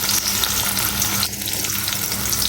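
Garlic and onion frying in a hot pan, with a loud, dense, continuous sizzle heard close and alone, without any talking.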